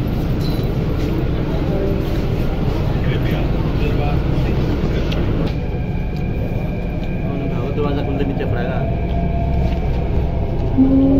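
A Delhi Metro train running between stations, a loud steady rumble of wheels and car noise heard from inside, with a tonal hum and faint announcements or voices.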